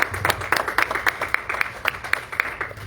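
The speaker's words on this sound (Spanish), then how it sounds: "Dele fuerte ese aplauso al Señor" Rhythmic clapping from a church congregation, a steady series of sharp claps in roughly regular beats at moderate distance, with no voices over it.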